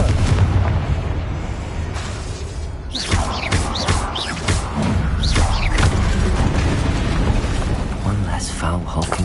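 Confringo blasting spells in Hogwarts Legacy set off repeated booming explosions with crackling, whooshing impacts amid combat noise, loud and continuous, while a voice speaks over the fight.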